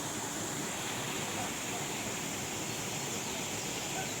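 A small mountain waterfall pours in a steady, unbroken rush of broadband water noise, close and constant with no pauses, and no voices over it.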